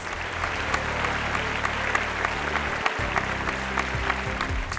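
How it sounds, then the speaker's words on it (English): A crowd claps steadily at a public speaking competition grand finale prize ceremony, an even sustained patter of many hands, with a low musical tone playing underneath. "a round of applause for her as well, please."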